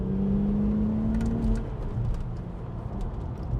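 A 2001 Audi RS4 engine pulls hard under acceleration, a steady rising whine near and loud for the first second and a half, then a rougher road and engine drone under wind noise.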